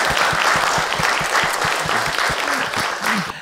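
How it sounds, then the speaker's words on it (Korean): An audience at a lecture applauds, steady close clapping from many hands lasting several seconds with a voice briefly heard beneath it near the end. "격려차 지금 먼저 한번 박수"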